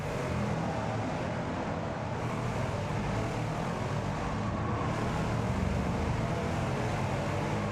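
Racing car engine in Gran Turismo 7, a steady, loud, continuous drone with a broad rumble that holds without pause throughout, with no talking over it.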